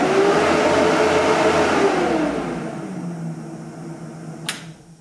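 The engine of a Star Wars X-34 landspeeder replica runs with a steady whirring whine that slides down in pitch as its speed is dialed back and fades quieter, ending with a single sharp click.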